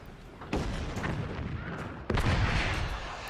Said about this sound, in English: Rockets coming across here.